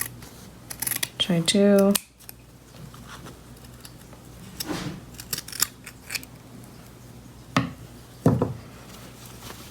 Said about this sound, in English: Can trim this off a little bit if I feel like it